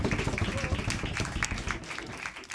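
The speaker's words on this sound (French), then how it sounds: "Allez, on les applaudit bien fort, on les encourage." Applause from a small audience at an intimate concert, a steady dense patter of clapping hands lasting throughout without a break.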